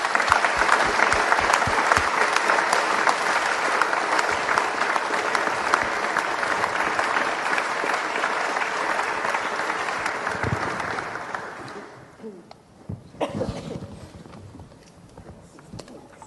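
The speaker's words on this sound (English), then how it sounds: "if we could just have another round of applause for our panelists," Sustained applause from a conference audience honouring a panel at the US–UK tech partnership event, loud and dense for about eleven seconds before tapering into scattered claps and room noise.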